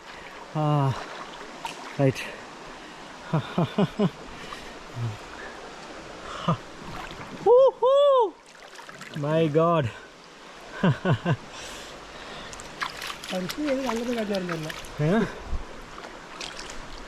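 Water from a forest stream flows and trickles steadily along a hill trail during an ultra trail run, with people talking and calling out over the running water.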